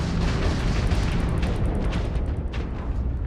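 Weapon fire and explosions in Starfield during a space combat engagement, a dense rumbling roar of blasts and rapid bursts, loud and continuous.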